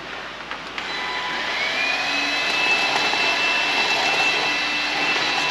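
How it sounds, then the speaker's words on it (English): An Aldi vacuum cleaner with a dustbuster attachment runs steadily and loudly, a sustained whine rising slightly in pitch as it spins up after a brief click at the start, with no talk over it. "this is our Aldi vacuum cleaner with a dustbuster attachment"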